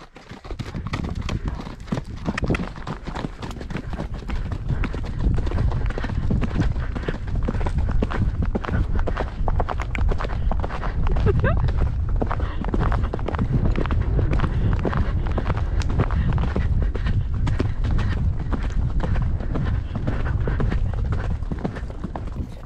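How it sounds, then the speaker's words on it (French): Hooves of a purebred Arabian horse clip-clop in a steady rapid rhythm, close and continuous, over light wind noise. "Franchement, les chevaux sont hyper cool."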